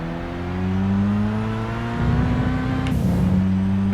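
A car in Gran Turismo 5 drones with a steady engine tone that climbs in pitch, then drops with a brief whooshing burst near the end. The sound is close and even, with no talking.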